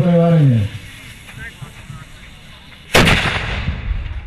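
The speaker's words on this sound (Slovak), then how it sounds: "Mohutný výstrel z dela odpálil začiatok varenia" A loud cannon blast fires once to open a goulash cooking contest at an outdoor village festival. The sharp boom and its rumbling decay stand out after a stretch of crowd murmur and a brief tonal sound.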